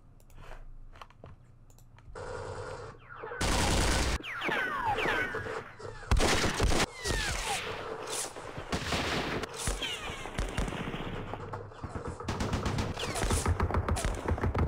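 Automatic machine gun fire and bursts of shooting in a Vietnam war strategy game, loud repeated volleys with sharp cracks and rumbling blasts, nearly continuous and dense from a few seconds in to the end.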